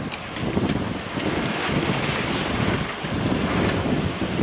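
Strong wind of about 15 knots buffets the microphone over the rush of waves and water against a moving sailboat crossing from Morocco to Spain, steady and loud throughout.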